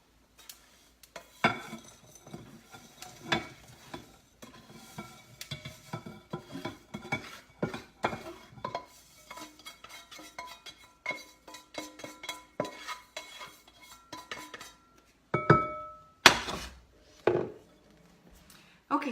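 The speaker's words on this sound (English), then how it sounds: "Okay, we'll take it off the heat now. And we'll dump it into our bowl." Toasted seeds and nuts tipped from a hot pan into a bowl in a home kitchen, a busy run of clattering, scraping and clinking pan-and-utensil knocks, with a few louder sharp clanks near the end.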